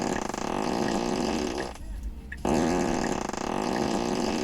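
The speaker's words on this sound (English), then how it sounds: "So we have our fireplace, we also have whoopee cushion." A Tesla's whoopee cushion novelty effect plays a buzzy, flapping fart noise twice, broken by a short pause, sounding synthetic and steady.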